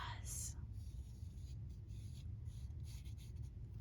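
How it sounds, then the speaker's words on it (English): A black marker rubs lightly along the edges of paper in a craft setting, making soft, continuous scratchy strokes that are close and quiet. "Like a black marker here and just lightly go around and knock the white off the edge of this paper."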